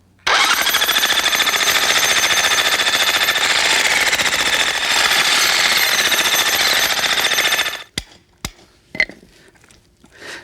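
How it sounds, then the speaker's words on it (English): A loud, continuous electric jackhammer pounds a cracked concrete driveway at close range for several seconds, then stops, leaving a few sharp knocks and clatters of breaking debris. "the electric jackhammer works really well to break this up into manageable chunks"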